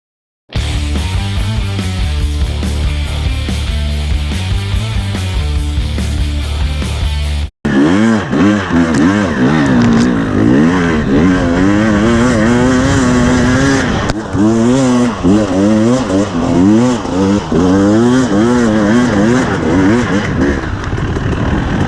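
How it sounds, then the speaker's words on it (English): A 2021 KTM 300 EXC TPI two-stroke dirt bike fitted with an RK TEK head, loud and close, revving hard with wavering, rising and falling engine pitch as it rides, after a short burst of a steady tone at the start. "This is the second ride on my 2021 KTM 300 EXC TPI, and I've just fitted a RK TEK head on it."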